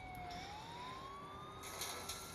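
A police car siren in a video game played on a Steam Deck, a steady rising electronic wail under engine rumble with a couple of faint clicks near the end.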